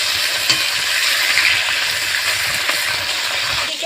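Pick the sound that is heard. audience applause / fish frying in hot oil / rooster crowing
fish frying in hot oil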